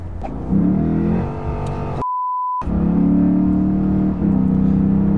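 Lexus IS F V8 engine accelerating hard, a loud rising roar through the gears with a brief pause between pulls, broken by a short steady censor-style beep in the middle.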